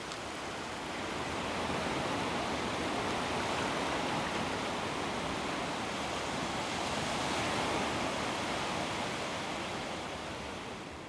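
Steady broadband wash of ocean surf rolling onto a sea turtle nesting beach at night, a continuous dense roar that swells gently and holds without any voices.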